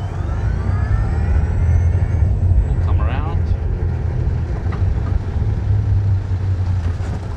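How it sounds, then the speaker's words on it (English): A Crossfire E1 Sector electric side-by-side utility vehicle accelerates, a loud, steady rush of drive and wind noise with a faint rising motor whine near the start, continuous throughout. "the machine accelerates really quickly"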